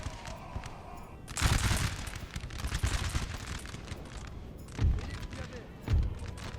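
Musket volleys in Napoleon Total War with Ottoman forces, several loud crackling bursts spread over a few seconds under battlefield din, with someone talking through it.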